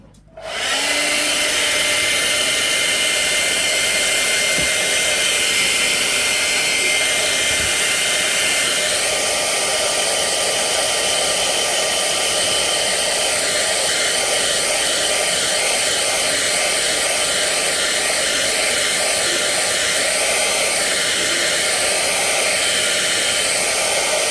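A hair dryer blows steadily on a decoupage project made with vinyl and a napkin, switching on abruptly and then holding a loud, close, unbroken whoosh with a faint whine for the whole stretch.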